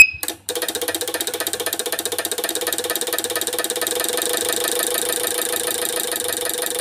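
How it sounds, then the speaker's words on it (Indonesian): Car engine cranks briefly with a short burst, then catches and settles into a steady, rapid rhythmic running clatter, close and fairly loud, heard during ECU service work. "sekarang kita cranking"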